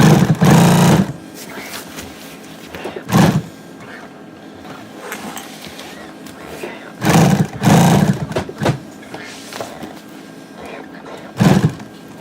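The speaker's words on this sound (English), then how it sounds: "So that bottom stitch has been 3-4 times, so that's a good strong connection." A sewing machine stitches back and forth over a strap on a handlebar hauler bag, running in loud bursts of rapid mechanical chatter separated by quieter pauses with soft handling sounds.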